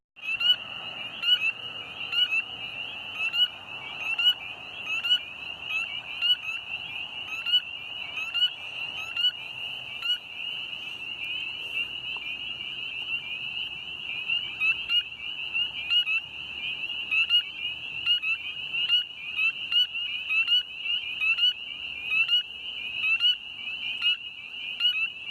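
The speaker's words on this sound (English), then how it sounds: "There's our first spring peeper of the night" Spring peeper frogs call at night, a chorus of high, shrill, rapidly repeated peeps mixed with trilling, moderately near and steady throughout with no voices.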